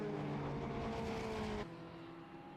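Race cars in the MK Indy class roar around the Brands Hatch Indy circuit, a loud, steady engine drone with a pitch drop as a car passes, then a fainter lingering hum.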